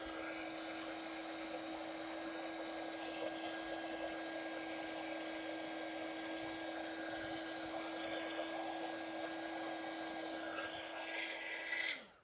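A heat tool drying embossing powder on a handmade card blows with a steady, close whirring drone and a faint tonal whine, running continuously before cutting off abruptly at the end.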